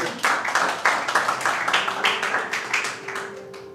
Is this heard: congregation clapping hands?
yes